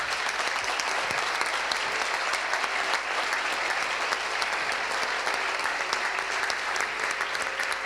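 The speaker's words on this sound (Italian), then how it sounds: "farei un applauso proprio ai docenti" Sustained, dense applause from an audience honoring teachers at a hotel-school competition event, steady and loud throughout with no pauses.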